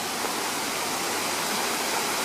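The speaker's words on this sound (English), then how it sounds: "Kind of see the waterfall from the other side here." The waterfall at Turning Point Park roars in a steady, dense rush of falling water, loud and continuous throughout with no voices.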